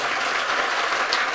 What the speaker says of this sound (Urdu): آ رہا ہے کہ تھوڑی میرے تالی بجا دو